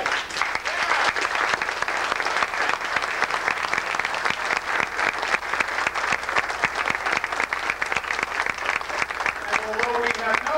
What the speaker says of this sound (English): And I'd like to lead the applause for those 4 people.